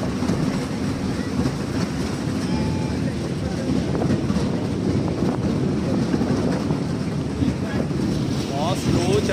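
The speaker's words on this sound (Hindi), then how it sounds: "बहुत स्लो चल रही है ट्रेन।" Dragon Train amusement ride at a water park running slowly, a continuous rumbling rattle of rolling carriages with wind noise, loud and close, with people talking over it.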